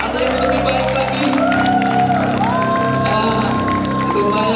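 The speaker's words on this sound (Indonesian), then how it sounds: "Beri tepuk tangan, sorakan haleluya" A church congregation applauding and cheering at a senior community worship service, a loud, continuous wash of clapping and voices with music carrying underneath.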